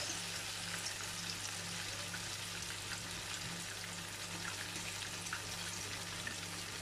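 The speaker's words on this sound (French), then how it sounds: "je prends une cuillère et je fais des petits paquets dans la poêle, dans l'huile, que je cuis comme ça" Spoonfuls of grated potato pancake batter fry in oil in a pan, giving a faint, even crackle and sizzle that holds steady throughout with a low background hum.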